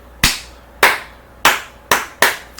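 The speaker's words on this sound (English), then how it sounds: "they in there clapping it up, praising the Lord" Five sharp, loud claps spaced evenly about half a second apart, each with a quick decay, like hands clapping in a church congregation, close and alone with no voices.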